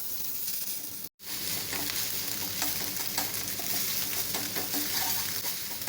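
An egg fries in a pan late at night, giving a steady, close hiss and crackle of hot oil, briefly cut off by a moment of silence near the start before the sizzle resumes.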